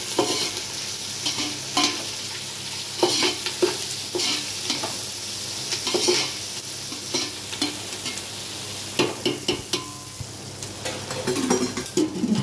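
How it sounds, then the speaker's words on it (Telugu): Chopped onion and green chillies fry in a little oil for bagara rice, a continuous crackling sizzle broken by repeated scraping and stirring strokes, close and fairly loud. "ఇప్పుడు ఆనియన్ పచ్చిమిర్చి వేసుకుంటున్నానండి. వేసుకొని బాగా కలుపుకోవాలి."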